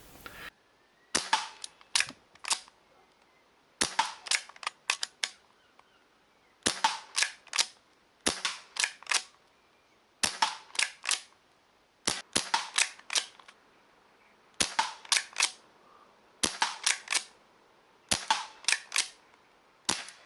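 Air rifle shots ring out in about ten separate bursts of several sharp cracks each, crisp and close, with short silent pauses between the bursts.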